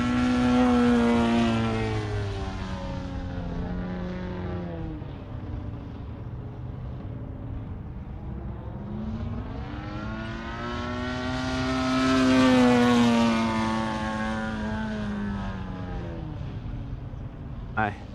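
An Extreme Flight Laser radio-controlled model airplane flies over a runway, its engine a steady harmonic drone that rises and falls in pitch and loudness as it makes passes, alone without voices.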